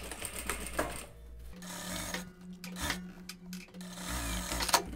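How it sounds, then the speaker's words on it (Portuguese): A straight-stitch sewing machine sews a sleeve into the armhole of a child's Festa Junina dress, its close mechanical whir running in bursts with short pauses and light fabric rubbing between runs. "Agora é só costurar a manga na cava da peça. Vou fazer primeiro na reta"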